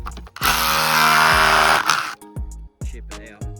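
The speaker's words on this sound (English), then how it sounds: "this is the limestone we've got, and I'm having to use my hammer drill" A loud hammer drill roars for over a second as it bites into limestone, then stops, followed by scraping and knocking sounds.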